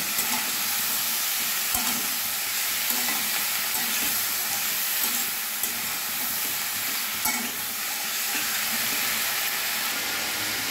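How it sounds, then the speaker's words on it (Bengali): Carrot, capsicum and peas frying together in a pan for a vegetable khichuri, a steady close sizzle with occasional stirring scrapes running throughout, no voices. "এবারে সব সবজিগুলো একসঙ্গে আমি ভেজে নেব।"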